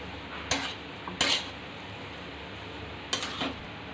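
Potato filling for bread patties being stir-fried in a pan: a low steady background hiss broken by three or four sharp metallic scrapes and clanks of a spatula against the pan, no talking.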